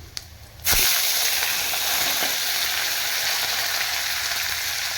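Curry leaves drop into hot oil with garlic and chillies for a tempering for rice, bursting after a quiet moment into a loud, close, sustained sizzle that crackles on without pause.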